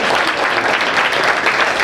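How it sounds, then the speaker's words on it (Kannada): Applause from an audience at a talk with a doctor, a steady, dense clatter of many hands that fills the whole short stretch at an even, fairly loud level. "ಸಾಧ್ಯವಾದ ಒಂದು ಚಪ್ಪಾಳೆ ಹೊಡಿತೀನಿ"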